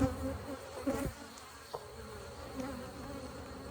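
Honeybees buzz steadily around an open hive, a dense close insect drone with a few louder passes near the microphone, no talking.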